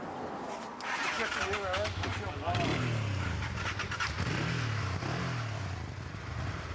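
Motorcycle engines start up and rev with rising and falling pitch, loud and close, while people talk nearby, before a road trip in Morocco's Toubkal region.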